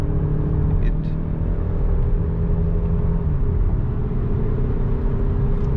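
Skoda Superb 2.0 TDI diesel, 190 hp, 4x4 with DSG, heard from inside as it pulls hard in 4th gear to overtake on the highway: a steady, loud engine drone under road and wind roar that holds throughout.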